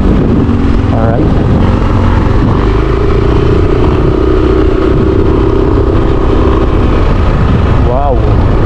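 A motorcycle ridden on a road through rural Catanauan, Quezon, a loud, continuous engine drone with constant wind rush throughout, and a rider's voice talking over it.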